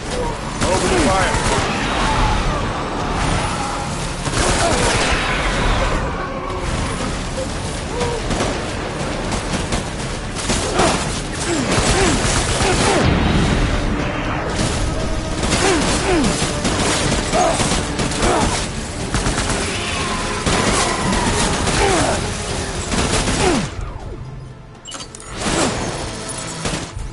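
Dense, sustained gunfire from the video game Death Stranding, with rapid bursts and booming shots over a constant battle din for nearly the whole stretch, mixed with shouted voices and game effects.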